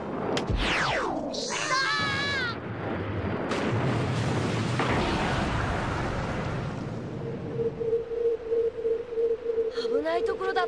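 A booming explosion erupts in the Sega Saturn game Super Rockman Adventure, a deep roaring blast that fades into rumble, with sweeping synthetic whooshes around it and a steady electronic tone near the end.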